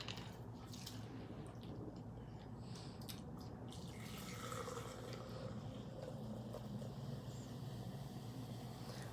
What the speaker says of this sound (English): Let's pour out some soda.